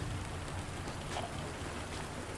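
Steady rain patters on surfaces in a survival horror video game, a soft continuous hiss holding evenly throughout without any talk.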